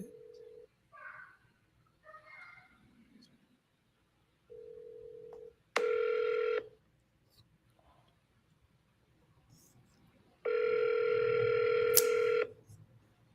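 A phone call goes out, with short bursts of dialing tones followed by long, loud electronic ring tones repeating at intervals, heard close and clear with only faint background sound between them.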